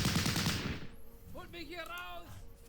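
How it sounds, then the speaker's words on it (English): Bren gun machine-gun fire in the World War One strategy game Battle Academy, a dense burst of gunshots over the first second, then fading under game music and tones. "I'm going to go ahead and open fire with the Bren gun"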